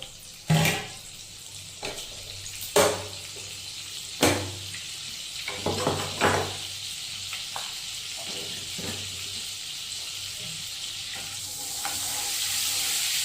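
Butter dropped into hot oil in a pan for chole: a loud spoon knock and a few heavy clacks start things, then a frying sizzle steadily builds and grows louder toward the end.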